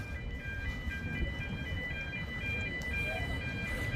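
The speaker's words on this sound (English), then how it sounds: "And the bridge is what's closing and is what's beeping." Steady electronic warning beeps from a closing bridge in Liverpool sound in a repeating high pattern over a low rumble of crowd and outdoor noise.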